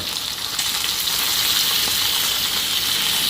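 Fish frying in hot oil: a loud, dense, continuous sizzle and crackle heard close up, holding steady throughout without any talking.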